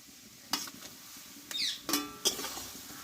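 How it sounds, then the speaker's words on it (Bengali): Flat beans go into a pan of frying spice paste made with cashew and poppy seed, giving a few faint bursts of sizzling and scraping stirs against quiet background. "এবার এতে আমি সিমগুলোকে আমি ঢেলে দেবো"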